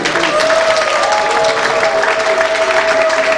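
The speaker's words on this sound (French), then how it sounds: "nous pouvons applaudir pour les femmes" An audience claps steadily throughout, a dense, sustained round of applause from a crowd honouring women, loud and close.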